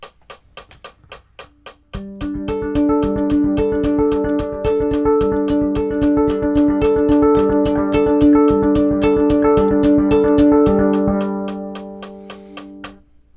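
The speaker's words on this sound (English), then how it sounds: "when I move the delay back to the dotted eighth, we get this zigzag pattern" A violin run through a delay pedal set to dotted eighths plays a fast repeated zigzag pattern, with overlapping echoes building into a dense shimmering wash that fades out at the end.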